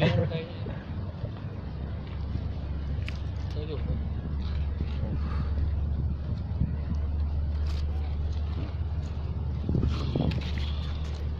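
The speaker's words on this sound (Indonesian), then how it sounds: "Anginnya mulai kencang" Strong wind buffets the microphone in a steady low roar throughout, with water and faint boat-like rumble outdoors at a freshwater fishing spot where tilapia are being caught with moss bait; speech is heard faintly underneath.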